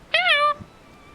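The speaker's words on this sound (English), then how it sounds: "Two meows." A cat in Final Fantasy XIV Heavensward gives a short, bright, clear meow followed by a brief faint second sound, close and isolated against quiet.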